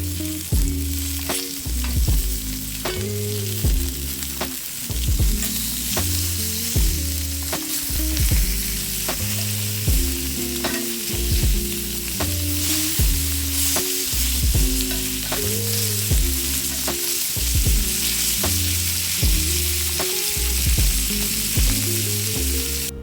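Lamb chops sizzling in a pan, a loud continuous frying hiss with crackling pops. Faint scrapes and shifts recur throughout, with no talking.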